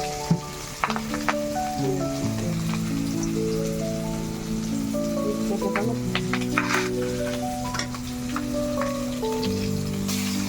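Spices sizzle in hot oil in a pan for a Bengali fish curry, an even crackling hiss with a few sharper pops, heard under steady background music.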